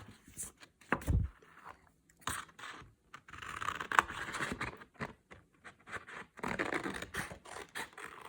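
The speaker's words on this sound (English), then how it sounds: "So you should cut 4 strips of the same width." Scissors snip and scrape through strips of material for a handmade Caribbean-style Easter basket, giving irregular close, crisp cuts and rustling scratches with short pauses between them.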